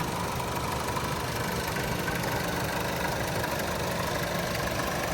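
Steady idle of a 2010 Chevrolet Equinox 2.4-liter four-cylinder engine, an even, continuous hum heard close under the open hood with no speech.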